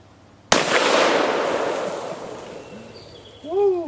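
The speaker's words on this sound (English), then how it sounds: "that was 3 shots, and I'm still alive" A .500 Magnum revolver fires one sharp, very loud shot outdoors, and its booming echo slowly fades over a few seconds before a person lets out a brief excited shout.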